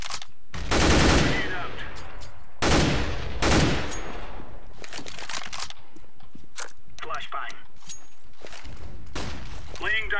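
Video game gunfire in a tactical shooter match, with heavy automatic bursts near the start followed by sparser scattered shots and distant crackles, interleaved with quieter game sounds.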